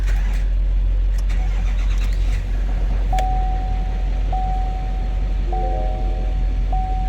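A cold truck engine fires up and settles into a steady low idle rumble, with a few high electronic beeps repeating near the end.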